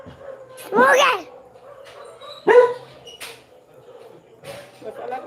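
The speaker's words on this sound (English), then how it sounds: "Every dog in the neighborhood wants to bark." Neighborhood dogs in the Philippines bark and yelp: two or three sharp, separate outbursts at moderate distance, with softer whines and quieter barks between them.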